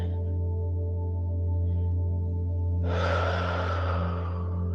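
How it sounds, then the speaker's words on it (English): During a guided group meditation, a long, audible deep inhale rises over a steady low droning hum, close and breathy, lasting nearly two seconds. "Let's take another deep breath in."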